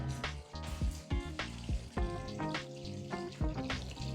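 Water poured into a pot of oxtail pepper soup on the stove, with seasonings and paste already in: a steady splashing and hissing sizzle near the microphone, uneven in loudness, with no talking.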